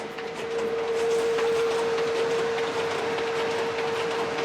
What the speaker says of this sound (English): This is the sound of real printing.